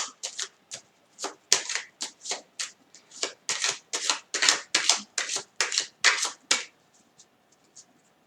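A deck of 54 playing cards is shuffled in a quiet room, making a rapid series of about twenty crisp riffling bursts in an uneven rhythm that fade out toward the end.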